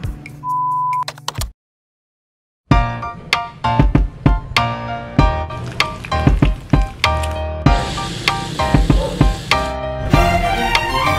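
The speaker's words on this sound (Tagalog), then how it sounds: "nilagay ko na tong spam para i-fry" Spam frying in a pan, with a steady sizzle broken by sharp clicks, clatters and utensil knocks after a short beep and a moment of silence.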